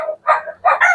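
Gamefowl on a small farm give short, loud, close rooster calls, two strong bursts separated by a brief pause, with no talking over them.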